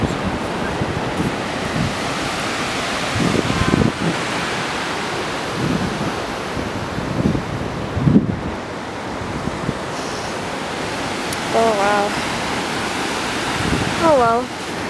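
Ocean surf at Venice Beach, a steady broad wash of waves and wind noise with people talking nearby.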